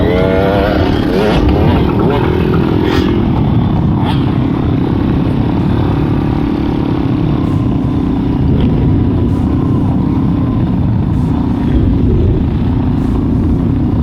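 Motorcycles racing around the Mid-Ohio road course, a loud continuous engine drone with rising and falling revs as bikes pass, heard from the fence line with faint crowd chatter underneath.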